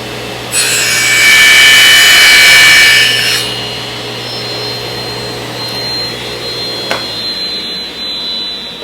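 A saw trims the edge of a wooden bowl segment with the blade guard off, a loud, steady whining cut lasting about three seconds, followed by the machine running down with a faint hum and a single sharp tick.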